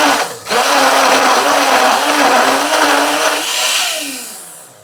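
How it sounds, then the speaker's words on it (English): A small blender whirs through an anti-inflammatory smoothie, a loud close grinding that dips briefly at the start, then runs steadily before winding down. "you blend this for like probably just a minute or two, depending on how the blender was working for you."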